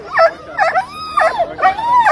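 Alaskan Husky sled dogs at the Fur Rondy sled dog race in Alaska bark and yip in quick, excited bursts, several sharp calls close together over about two seconds.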